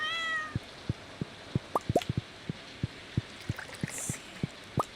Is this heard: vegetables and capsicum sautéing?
no